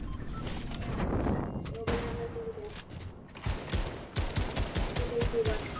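Sharp gunshot cracks and rapid building and combat effects in Fortnite ranked play, several hits scattered through a busy mix, with a player's voice talking over parts.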